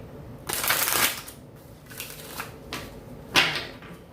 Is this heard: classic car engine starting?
no